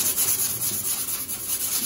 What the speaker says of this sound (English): press pretty hard when you're sanding this